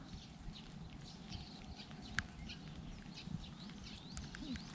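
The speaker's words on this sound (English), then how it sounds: "Some birds." Birds call intermittently near a lakeside allotment in Tokyo, short chirps and whistles scattered over steady low outdoor rumble, with one sharper call standing out midway.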